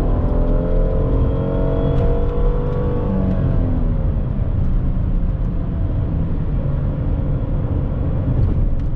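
Hyundai Azera V6, 245 hp with 100,000 km, accelerating up a hill, heard from inside as a smooth engine hum rising in pitch then settling, steady and moderately loud with no talk.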